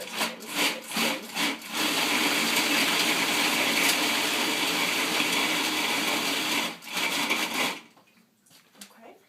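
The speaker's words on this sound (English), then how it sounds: "Each time I add something, basically, I'm going to just pulse it a couple of times." A food processor whirs through a raw cacao truffle mixture: a few short pulses, then one long loud steady run before it cuts off into near quiet.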